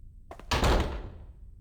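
A door in the video game Fatal Frame 3 swings shut with one solid, close thud after a brief rattle, then fades quietly, with no talk.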